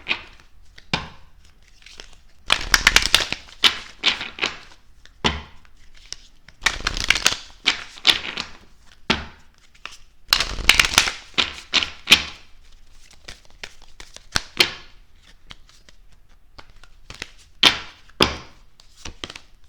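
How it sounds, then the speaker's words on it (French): Angel oracle cards shuffled and drawn, repeated riffling bursts of crisp card noise with short pauses, sliding and tapping sounds in between, close and fairly loud with no talking. "Je vais d'abord commencer par vous tirer une carte des anges"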